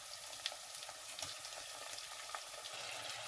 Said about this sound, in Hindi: मैं डालूंगी चिकन, और चिकन को भूनेंगे